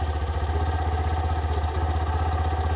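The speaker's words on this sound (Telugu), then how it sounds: "మనకి ఇప్పుడు ఇంజిన్ స్టార్ట్ చేసాం" A Hero Glamour X 125 motorcycle engine idles on its center stand, a steady, close, even mechanical putter with a fast regular pulse and no voices.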